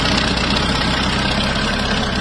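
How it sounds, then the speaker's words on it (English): An old Ford truck engine idles roughly with a leaking exhaust donut gasket, a steady close pulsing chug with a raspy ticking puff over the low rumble, no voices. "Nice little exhaust leak. The donut gasket is gone."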